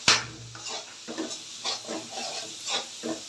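Onion and chili fry in a pan after fish has been cooked in it, with a soft sizzle under repeated stirring scrapes at an irregular rhythm.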